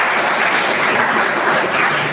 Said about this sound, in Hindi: आइए ताली बजाइएगा सब लोग